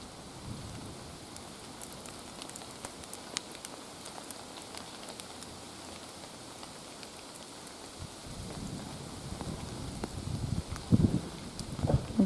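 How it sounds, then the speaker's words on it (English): Rain falls at a lakeside campground, a soft continuous patter that grows louder and denser toward the end, with no talk. "Looks like the snow is changing to rain."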